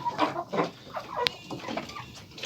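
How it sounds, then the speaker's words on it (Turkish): Chickens cluck in short, scattered bursts while feeding, fairly close, with a sharp high chirp partway through and a soft background hiss. "tavuklar hemen alıştılar bu sisteme. Yemeğe başladılar."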